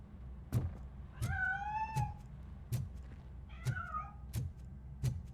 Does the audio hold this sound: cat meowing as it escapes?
yes